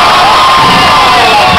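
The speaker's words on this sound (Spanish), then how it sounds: "¡Un aplauso para los niños!" At a festive dance event in Aguascalientes, a crowd breaks into loud, sustained cheering and shouting, children's voices prominent, close and dense for the whole short stretch.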